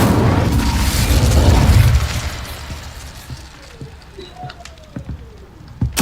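An Incendio fire spell cast in Hogwarts Legacy, a loud whooshing burst of flame that rumbles and fades over a couple of seconds, followed by quieter scattered game pops and tones.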